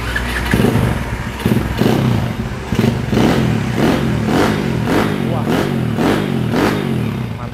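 A 150cc dirt bike engine started and revved in a series of rising and falling blips, loud and close, with some talk in the background.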